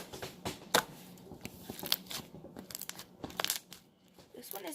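Metallic slime squished and poked by hand, giving soft crackly, sticky clicks and pops in irregular bursts, close up and fairly quiet.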